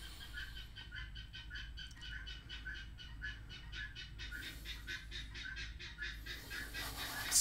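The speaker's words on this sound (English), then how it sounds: "Springtime birds, man." Springtime birds call in rapid repeated bursts, a gobbling fowl-like chatter pulsing in quick rhythmic series over a quiet background, faint and somewhat distant.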